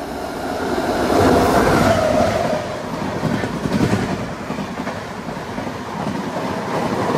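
On the Rajahmundry to Vijayawada route, a MEMU train rumbles past a goods train: a loud, close rolling roar of wheels on rails with a steady clatter that swells, then eases.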